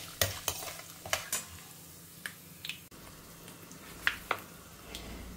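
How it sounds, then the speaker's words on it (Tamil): Peanuts, cashews and curry leaves fry in a pan under a soft, continuous sizzle, with sharp, close spatula scrapes and stirring clinks coming at irregular intervals. "கருவேப்பிலை, நல்லா செவக்கணும். செவக்கிற வரைக்கும் வறுத்துக்கலாம்."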